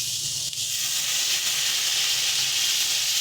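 Spice paste for a Bengali mustard-poppy pomfret curry sizzles in a pan as a little water is added, making a steady, close hiss of steam and frying that holds through the whole moment.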